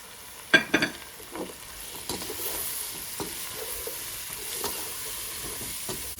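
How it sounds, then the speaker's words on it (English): Spices, onions and tomatoes frying for Punjabi aloo gobi, stirred in a pan: a few sharp spatula clacks at the start, then a steady sizzle with intermittent scraping strokes. "Just give it a good stir, let all the spices mix"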